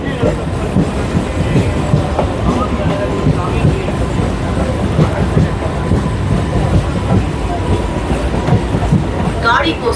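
A Sealdah to Howrah local train rolls steadily with loud continuous rumble and rattling wheels on track, close and unbroken throughout, with a brief squeal near the end.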